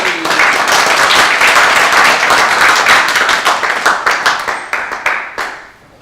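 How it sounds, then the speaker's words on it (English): A room of people gives a round of applause for a competitor at a real estate auctioneering competition in Melbourne, loud dense clapping that holds steady, then thins into scattered individual claps and fades out. "Let's give him a round of applause."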